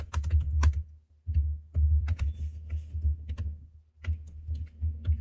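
Fingers type on a computer keyboard in quick bursts of close clicks, broken by short pauses and one longer gap, with no voice.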